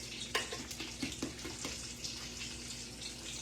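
Bacon fries in a skillet, ready for making sawmill gravy, giving a soft, steady sizzle with scattered small pops, heard close and fairly quiet with no talking.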